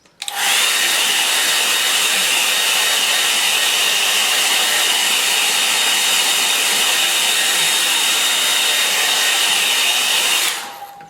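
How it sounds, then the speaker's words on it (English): A hair dryer blows steadily on watercolour paper, a loud continuous whoosh with a high whine that switches on, holds for about ten seconds and cuts off. "So I'll give that a bit of a dry with the dryer."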